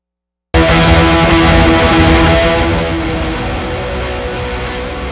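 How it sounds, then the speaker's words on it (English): Electric guitar played through a Benson amp set hot and crunchy, a sustained distorted chord ringing out loud and alone, then slowly decaying. "Right now we're running through the Benson,"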